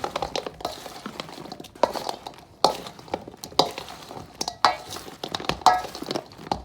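A spoon stirs a sugar mixture for Guyanese mithai in a pot, making repeated scraping strokes and sharp metallic clinks at an irregular rhythm, close and moderately loud.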